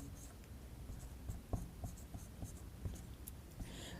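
A pen or chalk scratches across a board during a Class 12 vector algebra lesson, giving a run of short, soft strokes and taps under a constant room hiss. No one speaks.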